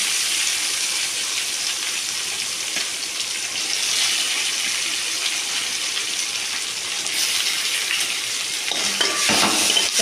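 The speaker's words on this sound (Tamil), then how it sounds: "வெங்காயத்தை நல்லா வணக்கிக்கலாம்" Chopped onions fry in a hot pan with a steady, close broadband sizzle throughout, joined by a few louder scraping stirs near the end.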